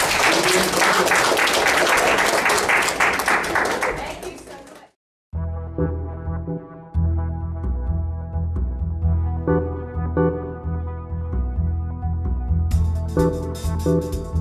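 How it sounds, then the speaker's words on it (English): A tai chi for arthritis class claps for itself, a burst of dense applause for about five seconds that cuts off abruptly, followed by a few scattered claps under background music. "Give yourself a round of applause."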